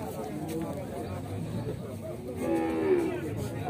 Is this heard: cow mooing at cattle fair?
yes